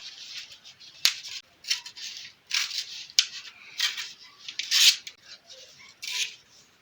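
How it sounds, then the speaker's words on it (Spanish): Scissors cutting a square of paper up close, a series of crisp, rhythmic snips and crunchy slicing strokes with short pauses between cuts, alone with no talk. "A continuación vas a cortar un cuadro de papel."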